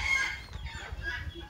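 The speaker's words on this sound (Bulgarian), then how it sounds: "Ето ги кокошките." Chickens in a Bulgarian village yard, clucking and crowing at close range in a continuous, busy chorus with no talking.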